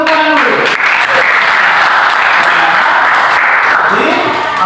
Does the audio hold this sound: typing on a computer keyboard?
no